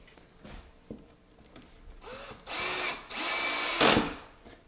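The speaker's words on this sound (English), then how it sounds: "the screw does its own drilling, and it's going to push down to where we've clamped our molding tight against the plate" A power drill drives a self-drilling pocket hole screw into molding clamped against a plate, first with a few faint handling clicks, then two loud sustained whirring bursts, the second ending with a sharp grinding catch.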